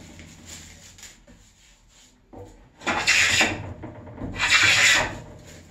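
A wooden coffin plane is pushed across a wooden board. The clip holds soft rubbing, then two louder rasping strokes a couple of seconds apart, heard close up and on its own.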